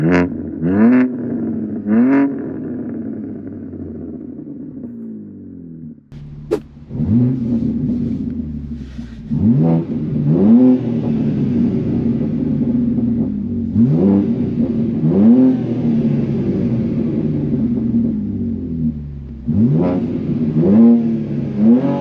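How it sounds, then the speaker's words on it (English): A 2024 BMW M2 engine revs repeatedly in the rain, each close, loud rise and fall of exhaust roar separated by a throbbing idle, with a few clattering pops between revs. "I'll throw some exhaust clips in of it revving and stuff like."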